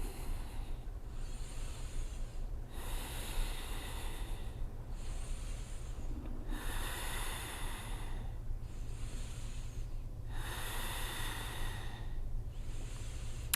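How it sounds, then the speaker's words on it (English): Slow, deep breaths during a yoga shoulder stand rise and fall in a steady rhythm of long airy inhales and exhales, close and fairly soft over a low hum, with no talk. "Keep breathing."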